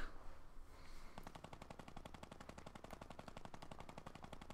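Rapid automatic gunfire in Fortnite, a sustained burst of evenly spaced shots starting about a second in and continuing without pause, fairly distant and quiet.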